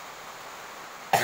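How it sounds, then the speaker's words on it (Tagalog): A single short cough bursts out at the very end, loud and close, after a stretch of quiet background hiss. "Nauulanan kasi tayo kaya inuubo-ubo tayo"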